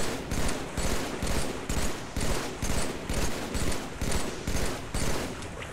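Gunfire in Halo 3 repeats as a steady, evenly spaced string of about a dozen loud bursts, each a short burst of shots, close and clear with no talking.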